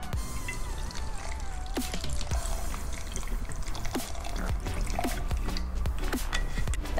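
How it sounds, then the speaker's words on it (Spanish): Ice cubes and gin going into a cocktail shaker for a CBD cocktail: sharp clinks and knocks of ice with splashing liquid and a quiet trickle, close and moderately soft. "agregamos hielo y ginebra"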